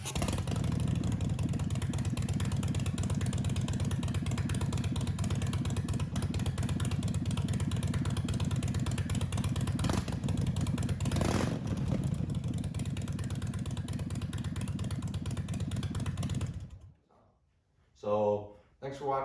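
A Harley-Davidson 103 V-twin motorcycle engine with LAF drag pipes runs loud and close with a steady, throbbing exhaust rumble for about seventeen seconds, then cuts off abruptly, followed by brief faint sounds.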